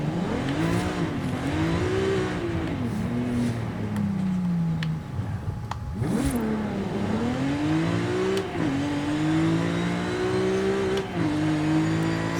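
A tuned car out on the road revs and accelerates in a continuous engine drone, its pitch climbing and dropping through several rev swells over about twelve seconds, loud and close with no talking.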